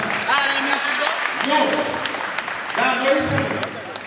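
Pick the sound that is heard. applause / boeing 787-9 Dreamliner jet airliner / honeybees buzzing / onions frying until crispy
applause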